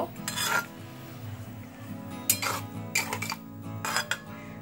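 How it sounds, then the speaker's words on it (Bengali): Raw mango chutney with sugar is stirred in a pan, a spoon clinking and scraping against the metal in a few distinct bursts over a low background hum. "চিনি দিলাম, ভালো করে একটু মিক্সড আপ করে নেব।"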